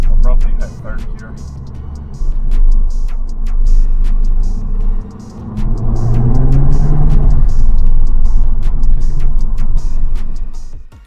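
Mk5 Golf GTI accelerating through the gears, a loud low engine rumble that rises, drops briefly at a shift, then climbs again, with someone talking over it throughout.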